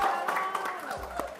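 A crowd claps and applauds steadily throughout, a dense patter of many hands at moderate loudness.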